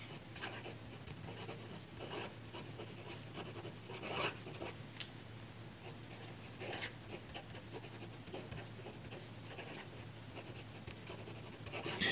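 A fountain pen writing with Fritz Schimpf ink on less refined paper, a faint continuous scratchy rasp of nib strokes with small rhythmic variations, close and quiet, no talking.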